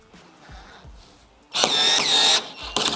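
A cordless drill from a four-piece battery tool set whirs loudly in a sustained burst while driving a screw that strips, preceded by quieter clicks and handling noises and followed by a short second spin.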